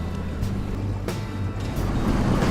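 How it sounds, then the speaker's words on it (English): A duck blind boat driven by a 150 horsepower outboard engine runs on the Missouri River, giving a steady, loud motor drone with water and wind noise throughout and no talking. "our duck blind has a 150 horsepower engine on it"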